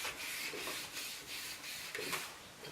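A hand rubbing back and forth along a leather straight-razor strop, soft rhythmic swishing strokes repeating roughly every half second, close and quiet with no talking.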